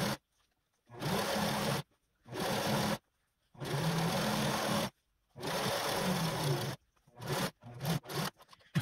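A sewing machine stitches a seam in robe fabric in several bursts of rapid mechanical whirring, with short pauses between them and a few quick stop-start runs at the end.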